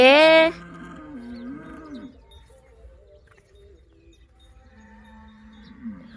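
Cow on a Thai village farm in the morning, giving one loud, close moo at the start, then a couple of softer, lower lowing calls amid quiet rural background.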